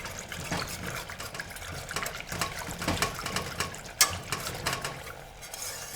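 Boiled dal being mashed with water for rasam, a steady wet squelching and sloshing with soft scraping against the pot, close up, with one sharper clack partway through.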